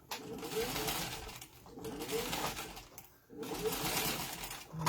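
A sewing machine runs in three steady bursts of rapid stitching, briefly pausing between them as it back stitches along a seam just inside the presser foot, close and fairly loud with no talking.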